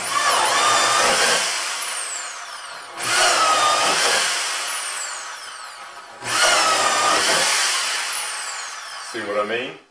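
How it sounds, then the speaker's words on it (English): A corded power drill whines through three separate bursts of drilling holes in a garage workshop, each a few seconds long, separated by short pauses. "If you've got a lot of holes to drill, don't mess around. Use a plug-in drill."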